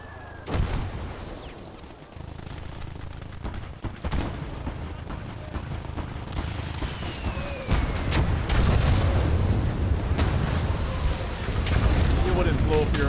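Heavy booming artillery blasts and scattered gunfire in the World War II game Gates of Hell, a dense, rumbling battlefield din with repeated loud impacts throughout and voices speaking over it.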